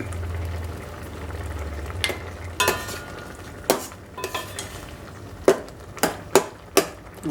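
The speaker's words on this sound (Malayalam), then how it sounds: "ഉപ്പിട്ടൊന്ന് നല്ലപോലെ ഇളക്കിയൊക്കെ വയ്ക്കാം" A spoon stirs salted mango pachadi in a pan with a series of distinct scrapes and knocks against the metal, spaced irregularly over a low background, and no voices.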